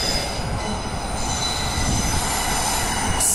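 A three-car train pulling away from a platform in Perth moves nearby with a steady rolling rumble, high metallic wheel squeal ringing over it throughout.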